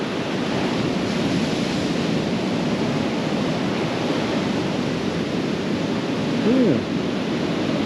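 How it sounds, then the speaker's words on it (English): Steady ocean surf washing onto the beach at Canaveral National Seashore, a continuous broadband roar with wind in the background; a voice speaks briefly near the end. "This is a pretty good looking surf here."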